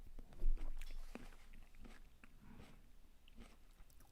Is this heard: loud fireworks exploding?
no